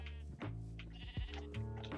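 Sheep in the video game Minecraft let out a quick run of faint, nasal bleats, three or four calls in close succession with no talking.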